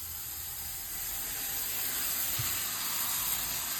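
Dosa batter sizzles on a hot stone griddle (dosa kal) over a stove: a steady, close, broadband hiss that swells slightly after the first second and holds evenly, with no voices.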